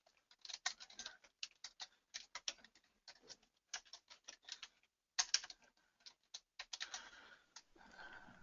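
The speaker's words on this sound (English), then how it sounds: "So while you're typing away here" Typing on a computer keyboard, quick irregular bursts of soft clicking keystrokes with brief pauses between runs, close and quiet, with no talking.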